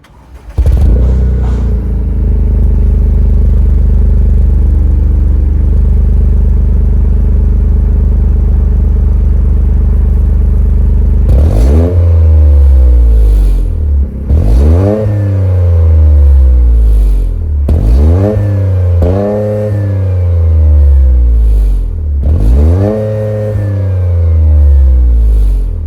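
A turbocharged 1.6-liter three-cylinder in a 2024 Toyota GR Corolla fires up and settles into a loud, steady idle, then is revved hard in four or five rising, falling bursts, heard close and alone.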